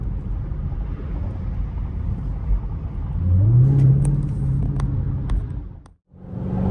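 A Dodge Hellcat Widebody SRT accelerates on a freeway, its deep engine roar building into a rising rev partway through before a sudden brief drop, loud and close against road rumble.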